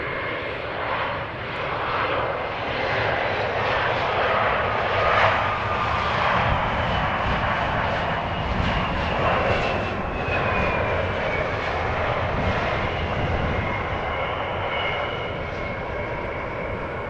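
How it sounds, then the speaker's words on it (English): A KLM passenger jet arriving from Zurich at Amsterdam Schiphol Airport, its engines giving a loud, steady roar that holds for the whole stretch with a faint descending whine, no voices. "KLM flight 1954 arriving from Zurich"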